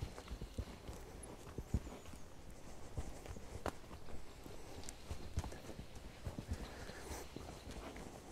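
Eight-year-old Selle Français stallion walking during warm-up, hooves striking the ground in a steady, irregular clip-clop at moderate distance over outdoor ambience and faint rustling, with no speech.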